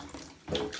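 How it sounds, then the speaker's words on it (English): Water pours from a tap into a bucket being refilled to wash cloth diapers, a brief splashing gush that swells louder halfway through. "I'm going to dump out the water and then refill the bucket and do another one."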